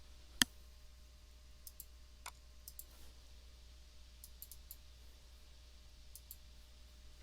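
A computer mouse button clicks in a Scratch-like block-coding editor: one sharp, close click stands out, followed by a few softer, sparse clicks over a quiet hum.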